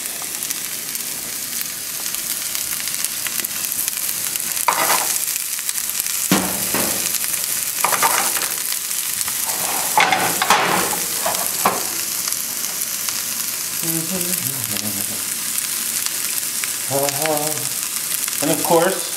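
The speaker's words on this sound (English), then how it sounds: "we're going to go in with our onion into a nice hot pan" Onion sizzles in a hot pan for a frittata, a continuous hiss with occasional clatters and stirring scrapes, and faint bursts of voice in the background toward the end.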